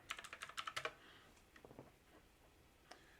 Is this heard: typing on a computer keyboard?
yes